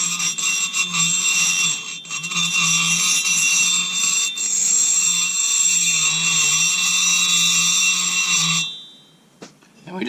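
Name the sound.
grinding port work on Husqvarna 272 chainsaw cylinder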